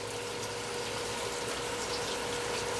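Water pushed under pressure through a car heater core during a flush, a continuous loud rushing gush with a steady pump-like hum, unbroken throughout.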